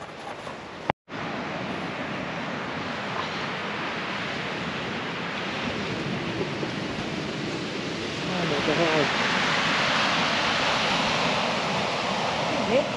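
Modest ocean waves break on a Tasmanian shore in a continuous close roar of surf that swells louder toward the end, with a brief dropout early on and people talking faintly beneath it.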